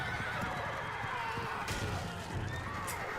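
A horse whinnies loudly while hooves clip-clop on the ground, with a busy background of other noise; no clear talking.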